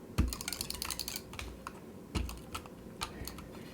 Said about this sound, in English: Now I can turn this over and just use some tape runner here